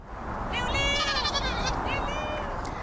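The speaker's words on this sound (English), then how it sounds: "a baby goat is trying to find some work as a sheepdog" A baby goat on a farm in the United Kingdom gives a couple of short, wavering bleats at close range over soft background noise.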